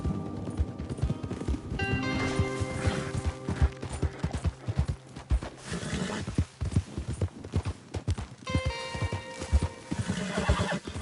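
Horses in Red Dead Redemption 2 gallop with steady clip-clop hoofbeats and repeated neighs and whinnies, close and loud, mixed with game music and riding commotion throughout.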